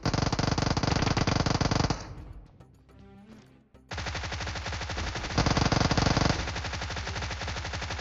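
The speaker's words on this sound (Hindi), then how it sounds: "अब इतने सारी फायरिंग साउंड सुन के मेरे में तो रहा नहीं गया" Dense automatic gunfire rattles loudly in a battle royale mobile game, with rapid bursts that pause briefly for scattered shots and then resume in a sustained barrage.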